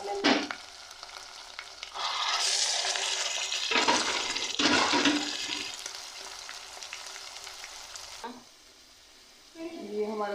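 Saag sizzles and fries in a pan during tempering, in bursts of loud hissing with quieter gaps between, close by, ending with a short stretch of speech.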